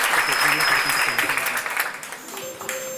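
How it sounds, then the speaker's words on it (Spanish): A crowd claps for the competitors at a live outdoor event, steady dense applause that gradually thins while voices and a faint tone sound beneath it. "un aplauso para los competidores,"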